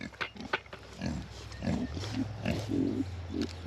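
Several pigs on a homestead grunt and snort in short repeated bursts close by, some low and drawn out, with a person speaking faintly between them.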